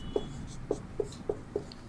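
Chalk or marker strokes on a board during a Hindi-language lesson, six short evenly spaced taps and scrapes, close and fairly quiet, with no talking.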